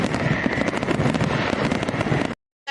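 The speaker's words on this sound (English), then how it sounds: "Yes, fireworks, fireworks." Fireworks crackle and pop in a dense, continuous barrage of bursts, loud and close, ending abruptly in silence.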